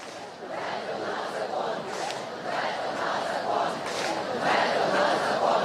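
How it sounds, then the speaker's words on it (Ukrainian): A large crowd of protesters rallies in Kyiv against the liquidation of independent anti-corruption bodies, with a continuous rumble of many voices, chatter and shouts that swells slightly toward the end. "Бачу натовп прекрасних людей, які я так розумію, прагнуть справедливості"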